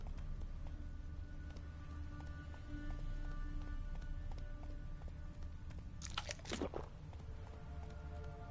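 Roach the horse gallops in The Witcher 3, a steady rhythmic clip-clop of hooves running over a low ambient game backdrop, with a brief sharp rising whoosh partway through.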